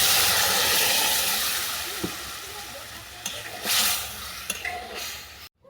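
Cooked lentil dal with vegetables and drumstick greens poured onto a sizzling fried tempering in a pan, giving a loud close hiss that fades, then a few sharp spattering bursts before a sudden cut.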